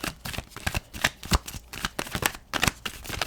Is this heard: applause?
no